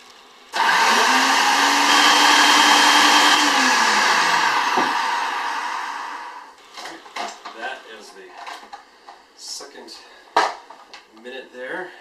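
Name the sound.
blender mixing mayonnaise with lemon juice and oil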